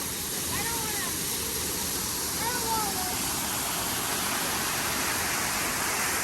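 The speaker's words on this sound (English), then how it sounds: "Beautiful waterfall." Steady broadband rush of a waterfall at the Canada pavilion in Epcot's World Showcase, a constant roar close by, with faint voices and a few whistling tones drifting over it.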